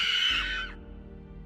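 A loud, high-pitched scream in a dark house, sharp and close at the start, then trailing off into a low rumble and near silence.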